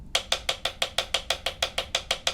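Drumsticks play rebound strokes on a practice pad with hands gripping too tight, giving a fast, even run of about fourteen sharp, dry clicks, close and alone.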